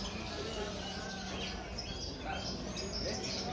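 Faint chirps from caged canaries at a bird market in Prambanan, scattered through steady background crowd noise.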